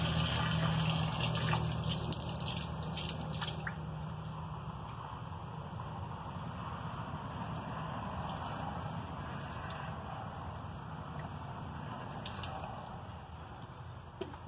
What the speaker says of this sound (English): Take our hides, work the water out of them.